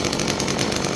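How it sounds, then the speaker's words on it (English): A climbing-capable chainsaw runs loud and close in a single sustained whine with a rough, buzzing edge, heard alone for under a second. "obviously it's a chainsaw, it's loud"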